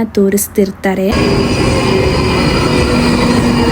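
Steady, loud rolling rumble inside a moving passenger train in London, with a faint squeal, starting just after a brief spoken phrase and continuing evenly to the end.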